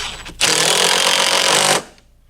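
A power driver runs a lag bolt into the mounting of a Torklift Smartstep truck camper stair, giving one loud, steady, buzzing burst of about one and a half seconds that stops abruptly.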